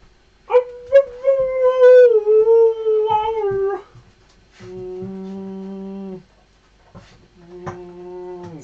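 A dog howls up close in three long, loud, wavering bursts separated by brief pauses, the first rising and sustained, the later ones lower and steadier.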